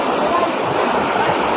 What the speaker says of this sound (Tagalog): Guys, ang lakas ng sibol.